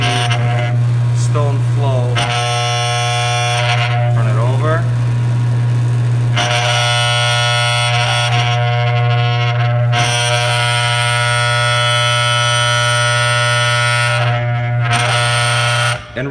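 A dental lab vibrator shakes a freshly poured stone cast, giving a loud, steady electric hum with a strong buzzing tone that runs unbroken for the whole stretch.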